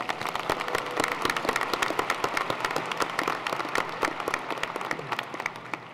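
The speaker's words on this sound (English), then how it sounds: "What about another round of applause for that national anthem?" An audience at a college commencement ceremony applauds after the national anthem, with dense, steady clapping from many hands filling the hall at moderate volume for several seconds.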